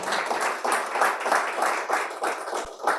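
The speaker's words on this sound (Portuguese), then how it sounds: "Uma salva de palmas." An audience at a business group launch meeting applauds, a continuous rolling wave of many hands clapping, moderately loud and swelling slightly in pulses, with one sharp knock near the end.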